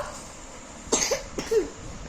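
A child who has a cough lets out two short, close coughs about half a second apart, each a rough burst with a brief throaty tail, in an otherwise quiet room.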